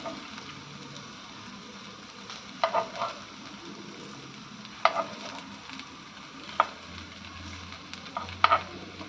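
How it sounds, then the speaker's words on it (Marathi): Stuffed okra fries quietly in a pan with a soft, steady sizzle, broken by several sharp clinks and scrapes as a spoon turns the pieces over at intervals. "भेंडी फ्राय झालेली आहे एका साईडने। आता आपण परतून घेऊयात।"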